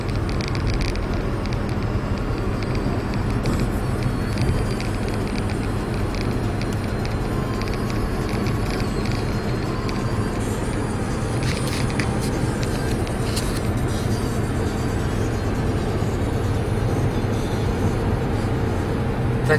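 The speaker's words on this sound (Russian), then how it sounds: "И пру на Мегане Рено французском со скоростью 110 км в час." A French Renault Megane cruising on a highway at 110 km/h gives a steady, continuous rumble of engine and tyre roar. Broadband wind noise sits inside the cabin and stays even throughout, with no talking.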